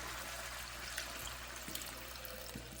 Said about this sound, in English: now we're gonna add about 2 to 3 cups of water